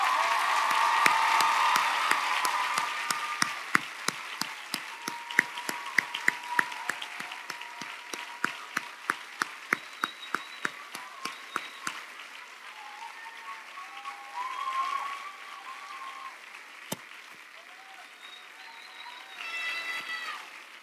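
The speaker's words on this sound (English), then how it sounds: "I join with our graduates as they rise to applaud their families" A college commencement crowd applauds loudly at first, the clapping thinning into scattered, distinct claps before fading, with murmuring and a few voices afterward.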